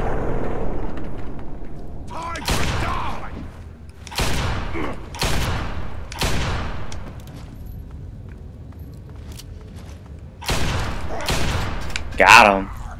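Gunfire in Fallout 3 comes in loud separate blasts, several shots spaced a second or two apart with quieter gaps between and a final sharp crack near the end, under occasional talk.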